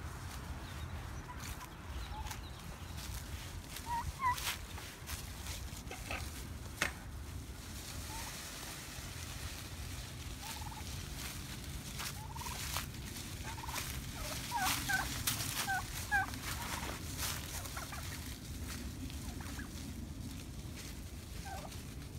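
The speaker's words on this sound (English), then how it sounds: "They really do gobble." Wild turkeys gobble repeatedly at close range outdoors, bursts of calls scattered over a steady background.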